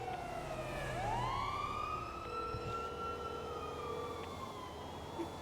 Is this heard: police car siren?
yes